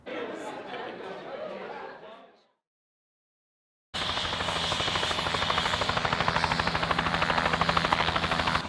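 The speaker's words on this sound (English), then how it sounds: "So we got 10 helicopters here." A group of Bell 505 helicopters gathered at a runway, their steady rotor and turbine roar loud and continuous with fine rapid beating, following a stretch of crowd chatter and a brief silence.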